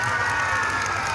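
A live audience at a folk song performance breaks into dense, continuous clapping and cheering, loud and close, with no pause across the short stretch.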